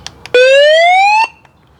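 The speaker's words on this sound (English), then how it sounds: "has a loud alarm on it" A loud emergency alarm on a camping light gives one sustained electronic tone lasting about a second, slightly rising in pitch, with a few faint clicks before and after.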